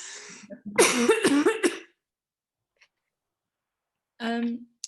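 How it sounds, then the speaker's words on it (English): A person coughs a few times in a quick cluster, close and fairly loud, then silence, followed by a short burst of another throaty sound. "I'm sorry, I'm coughing"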